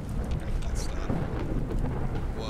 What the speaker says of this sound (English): that sounds like a lot of rain